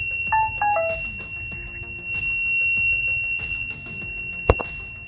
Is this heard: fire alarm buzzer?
yes